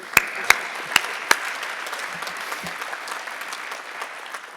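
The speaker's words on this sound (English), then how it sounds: "That deserves a round of applause" An audience at a senior celebration breaks into a round of applause, opening with a few loud individual claps before settling into steady, moderately loud clapping from a crowd that continues to the end.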